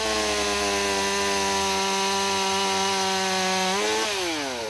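A chainsaw runs at a steady high idle while cutting into a damaged tree, its droning engine loud and close, then dipping in pitch as the chain bites into the wood near the end.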